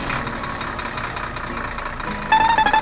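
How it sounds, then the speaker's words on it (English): A tractor engine in a cartoon farm scene runs with a steady, continuous rumble. Near the end a brighter tonal whine rises over it. "Tractor moves in and sets down the seed bag."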